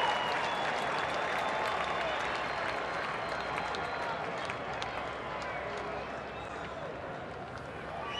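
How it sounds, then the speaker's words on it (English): Baseball crowd at a Nationals at Atlanta game roars steadily on a two-strike count, a dense, continuous wash of cheering and clapping across the stadium with a play-by-play voice faintly under it. "2-strike count, gets the crowd making some noise."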